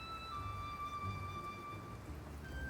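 Rain falls as a steady, soft ambient patter, continuous and even throughout, with a faint thin tonal hum above it and no voices.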